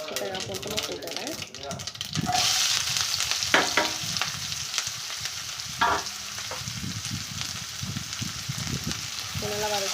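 Chopped onion, ginger, garlic and green chili sautéing in a pan, a continuous close sizzle with intermittent stirring clinks, while someone talks over the first couple of seconds.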